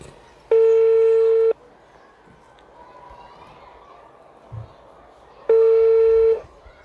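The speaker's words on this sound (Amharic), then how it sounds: "እየጠራ ነው ቤተሰቦች" Outgoing phone call: two long, loud ringback tones about five seconds apart, separated by a quiet line with faint background noise.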